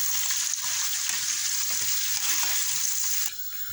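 Pieces of pişi dough fry in hot oil while being stirred, a steady bright sizzle with bubbling and faint scraping that runs continuously at close range, then drops off abruptly near the end.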